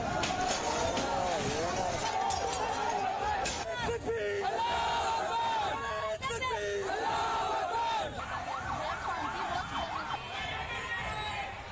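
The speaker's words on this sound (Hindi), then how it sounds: "आप तस्वीरें देखिए और भीड़ किस तरह से उग्र हो गई कि आगजनी पर भी उतारू हो गई।" A violent rioting crowd during clashes in Bengaluru, a loud, dense roar of many shouting voices with sirens wailing through it, continuous for the whole stretch.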